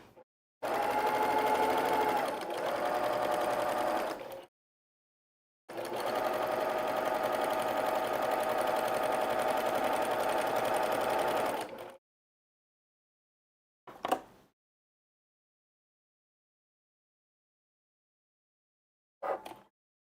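A sewing machine stitches quilt seams for a quilt-along project in two long, loud runs separated by a short stop, followed by two brief bursts of stitching after silent gaps.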